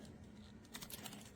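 Soft, quick keystrokes tap on an EAMPANG keyboard case for a Samsung Galaxy Tab A11 Plus/A9 Plus, a brief quiet burst of clicks in a hushed room.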